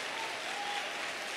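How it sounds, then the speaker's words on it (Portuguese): A church congregation applauds, dense even clapping from many hands filling the room without a break, no voices standing out. "Pode aplaudir se você entende isso."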